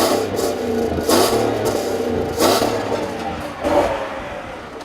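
A 2014 Chevy Silverado's 6.2-litre V8 revving in neutral, several rising throttle blips over a steady idle rumble, close and fairly loud.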